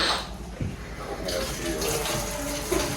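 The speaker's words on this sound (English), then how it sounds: "You gonna give some water in the bowl?" Water runs from a tap into a bowl in a steady close gush lasting the whole moment, with a faint clunk near the start.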